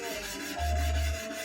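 A deba knife bevel rubbed on a small, fine sharpening stone, making a soft gritty scrape that swells briefly in the middle of a short stroke, close and quiet with no talking.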